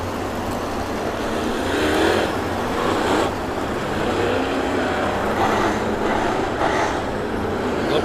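Pack of race cars on an oval track restarting after a caution, a dense continuous engine roar with surges as cars pass, loud and steady throughout.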